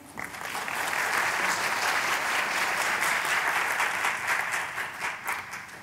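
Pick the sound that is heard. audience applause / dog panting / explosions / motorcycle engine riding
audience applause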